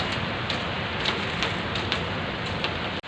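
Heavy rain pouring down in Qatar, a dense, steady hiss of water striking surfaces with no pauses and no voices.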